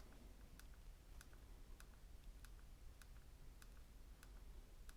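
Samsung Galaxy S22 power button in an Encased Rebel Series case clicked repeatedly in a steady rhythm, about eight sharp, close clicks evenly spaced over a quiet background hiss.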